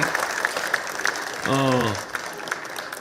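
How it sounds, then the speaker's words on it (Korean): Opposition lawmakers applaud and cheer in the National Assembly chamber during an impeachment vote, a steady clapping texture with a short burst of a harmonic voice or whistle-like cheer in the middle, with talk over it. "지금 야당 의원들이 김상욱 의원을 향해서 투표에 참여한 데 대해서 박수와 환호를 보내는 모습입니다"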